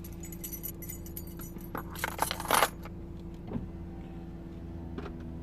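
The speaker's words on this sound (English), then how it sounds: "Can I have the keys back," Keys jangle as they are handed back inside a car, a burst of bright metallic rattling near the middle, with a few quieter clinks before and after over a low steady hum.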